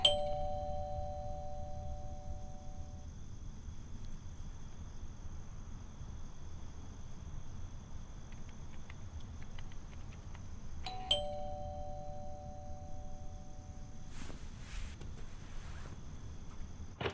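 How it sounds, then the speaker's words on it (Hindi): A household doorbell rings twice in a quiet home, each ring a short two-tone electronic chime separated by several seconds of near silence and faint background hiss. "किसी ने डोरबेल बजाई पर कोई है नहीं।"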